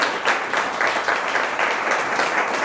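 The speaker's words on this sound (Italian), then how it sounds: "anzi fate un applauso perché ha fatto veramente un lavoro incredibile" Steady applause from the audience at an international opera singing competition final, a dense wash of many hands clapping evenly, fairly loud and continuous.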